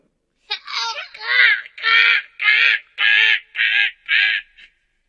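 A crow caws in a rapid series of about seven harsh, loud, close calls, each short and evenly spaced, with no other sound around them.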